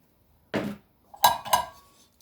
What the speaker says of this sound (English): Stir that one more time.